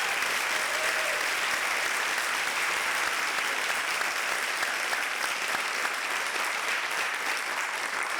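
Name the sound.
convocation audience applause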